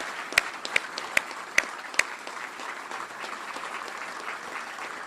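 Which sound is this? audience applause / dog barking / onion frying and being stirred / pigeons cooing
audience applause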